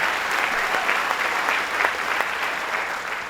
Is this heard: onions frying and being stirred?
no